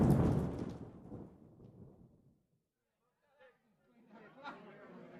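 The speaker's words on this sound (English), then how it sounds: "Tonight, there is a terrible storm, and it is raining." A deep rumble of thunder from a terrible night storm rolls and slowly fades, then a brief silence gives way to faint voices and chatter; no rain is clearly heard.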